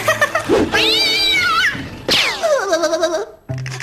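A cartoon cat gives two long, drawn-out meows in a row, each rising then sliding down in pitch, close and clear, followed by a brief trailing sound.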